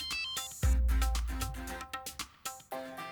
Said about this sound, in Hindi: महेश डोंगरे का फोन आ रहा है